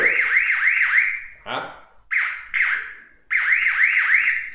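An alarm control panel beeps in repeated warbling tones while arming an electric fence energizer, loud and close, broken by short gaps where someone speaks briefly.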